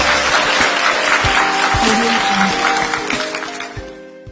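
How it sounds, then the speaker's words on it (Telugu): An audience applauds a real-estate group's managing director at an event, the clapping loud and dense at first and thinning out toward the end, with scattered louder claps standing out. "give him a big round of applause"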